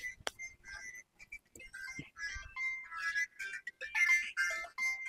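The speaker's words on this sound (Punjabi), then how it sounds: "ਫੋਨ ਪਤਾ ਨਹੀਂ ਕਿਹਦਾ ਆ ਗਿਆ।" A mobile phone rings with an incoming call, a bright melodic ringtone of short repeated tonal phrases at moderate volume, with some background clatter.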